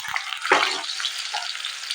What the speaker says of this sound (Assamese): পিঁয়াজখিনি ভালদৰে ভাজি ল'ম।